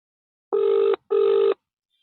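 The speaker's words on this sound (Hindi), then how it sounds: "फोन लगाए हुए हैं, घंटी जा रही है।" Ringback tone on an outgoing phone call, two identical steady buzzing rings of about half a second each separated by a short gap, clear and alone against silence.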